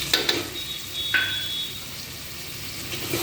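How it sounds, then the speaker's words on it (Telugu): A curry of drumsticks and coconut fries in a pan with a soft, steady sizzle, and a few sharp utensil clinks come near the start, and no one speaks. "వంకాయ వేయదాకా కాసేపు ఫ్రై అవ్వాలి"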